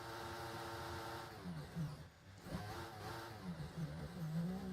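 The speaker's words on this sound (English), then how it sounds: "He is just revving the car neutral." A Formula 1 car in a racing video game revs in neutral, its engine tone rising and falling in repeated surges, fairly faint and continuous without speech.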